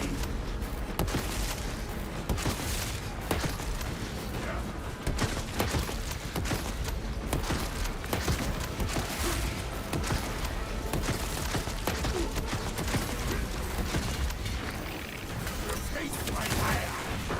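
Rapid barrage of heavy ordnance strike explosions and gunfire from the Space Marine sequel game, dense, loud and continuous, with voices speaking over the battle.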